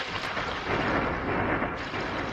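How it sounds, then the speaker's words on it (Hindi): Thunder rumbles from storm clouds over heavy, steady rain, a broad continuous roar that swells and eases for a couple of seconds with no voices. "बादलों की गड़गड़ाहट"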